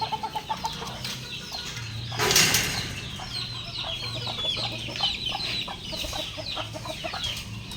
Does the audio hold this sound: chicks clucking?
yes